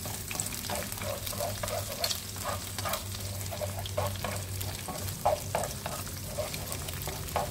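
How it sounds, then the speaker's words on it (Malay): Scrambled egg fries in a pan until slightly crisp, sizzling steadily while a utensil stirs and scrapes in quick irregular strokes, close and moderately loud, with no talking. "Gorengkan sehingga agak garing."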